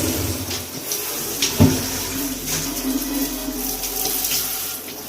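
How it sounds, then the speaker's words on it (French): A water jet rinses an aquarium in a bathroom, a continuous hissing spray with splashing against glass, close and moderately loud throughout, with one sharper splash early on. "on va nettoyer l'aquarium au jet"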